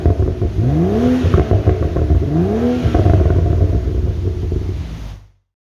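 A 2014 BMW M135i's engine revs hard twice, the exhaust rising in pitch each time with a deep rumble and crackle, then settles into a steady idle before cutting off.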